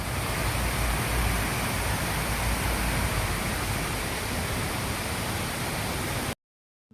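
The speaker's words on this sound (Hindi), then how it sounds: "firstly let's listen the sound of the water," Honnammana Falls in Chikmagalur, a waterfall, pours in a steady, dense broadband roar, loud and continuous with no voices, then cuts off abruptly near the end.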